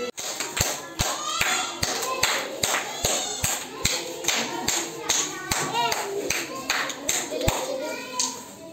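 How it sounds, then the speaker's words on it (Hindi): Schoolchildren clap in a steady, even beat during a classroom rhythm game, loud sharp claps roughly twice a second alongside chanting and young voices. "स्टार्ट कर ताली।"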